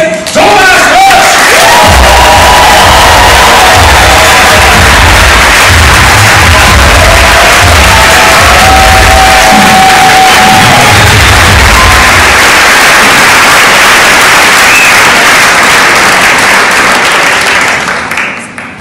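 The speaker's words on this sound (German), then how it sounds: "Mit einem fetten, wertschätzenden, liebevollen Mega-Applaus." A large live crowd at a motivational stage event bursts into loud, sustained applause with cheering and whoops, a dense wall of clapping that holds steady for most of the stretch before tapering off near the end.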